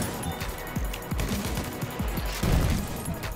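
Rapid rifle fire from a medic's weapon in Battlefield 1, a quick string of sharp, close shots in irregular bursts over constant battlefield noise, with heavier shots near the end.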